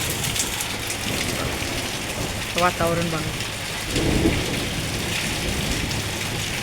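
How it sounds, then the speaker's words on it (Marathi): Rain beginning to fall on an afternoon at the start of the season, a steady hiss of drops filling the background, with brief louder rumbles and a short spoken phrase partway through. "आता पावसानं केली आहे सुरुवात"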